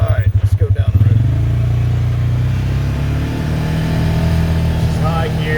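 A 2015 Polaris Ranger 570 UTV with a rebuilt engine pulls away down a road, its engine pulsing briefly at first and then settling into a loud, steady drone as it drives, heard up close.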